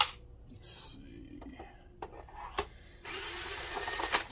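A power screwdriver or drill backs screws out of the underside of an Optoma HD26 DLP projector, giving short whirring bursts with clicks and handling knocks in between, then a longer sustained run near the end. Soft whispered talk is also heard.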